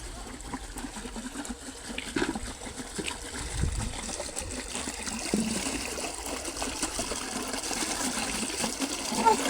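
Water is sprayed onto a newly built road, a steady soft hiss and trickle running throughout at low level, with faint background voices.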